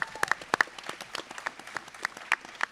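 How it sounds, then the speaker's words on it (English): Audience applause at a GunCon 2023 creator Q&A panel, scattered sharp claps rising and falling for a few seconds, moderately distant in a room. "Let's give them a big round of applause."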